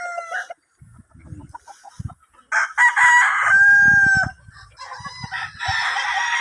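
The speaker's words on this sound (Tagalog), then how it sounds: "Ayan yung white kelso" A white Kelso gamecock stag on a farm crows loudly nearby, one full drawn-out call in the middle, with other clucks and crows from surrounding fowl before and after.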